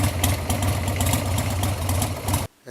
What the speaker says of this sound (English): We're just going to let that idle at a low pace for a second.